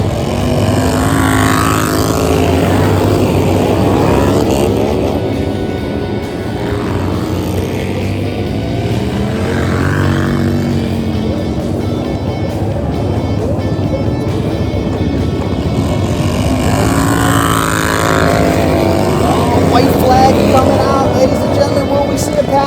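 Flat track motorcycles in a Super Hooligan class race roar continuously, engines rising and falling as bikes sweep past, with a commentator talking over the steady loud drone.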